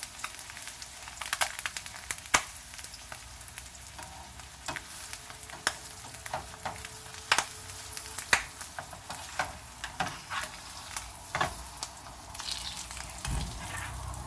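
Eggs fry in a hot pan, giving a steady close sizzle with scattered small pops and crackles, no talking.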